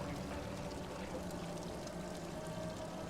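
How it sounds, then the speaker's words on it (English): Water flows and pours in a Japanese garden scene in The Room 4: Old Sins puzzle game, a soft continuous stream that is faint and steady with no talking. "The water flows."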